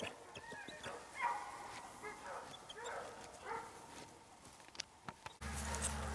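A pregnant dog, five weeks into gestation, barks and whimpers in short bursts around a house near woods, moderately close, with faint voices and rustling in the background.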